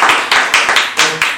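Loud, close hand claps fall in an even, brisk rhythm of about four to five per second, as an audience applauds at a Korean church talk show.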